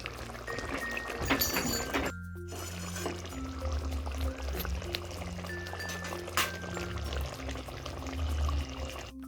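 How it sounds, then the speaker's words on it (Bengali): About a spoonful of mustard oil poured over a simmering sour-spicy pangas fish curry: a close liquid pour and bubbling with a few clinks over a steady low kitchen hum, no talk. "আর ঠিক এই পর্যায়ে দিয়ে দেব 1 চামচের মতো সরষের তেল ওপর দিক দিয়ে দিয়ে দিচ্ছি"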